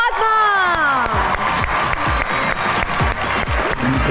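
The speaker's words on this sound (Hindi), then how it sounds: "आप सबकी तालियों में तशरीफ़ लाते हैं वली, हामिद अली खान और अरूज फातिमा।" Loud applause from a studio audience on a talk show, with dense, continuous clapping and a voice sliding downward over it at the start.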